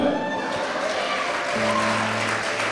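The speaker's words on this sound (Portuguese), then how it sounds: "Você pode aplaudir o Senhor?" Church congregation applauding, a dense continuous wash of clapping filling the space for nearly three seconds, fairly loud and even, with a sustained tone rising underneath partway through.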